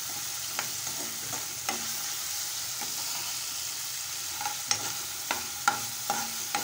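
A spoon stirs ginger garlic paste into a masala mixture in a pan, a steady low sizzle beneath, with irregular scraping taps that cluster more densely toward the end.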